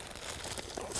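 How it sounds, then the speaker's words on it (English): A plastic bag of planting mix is torn open by hand without scissors, a brief, close crinkling and ripping of plastic that grows louder toward the end. "now I'm just gonna cut the bag open because I didn't bring a scissors"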